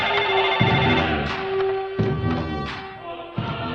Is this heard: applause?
no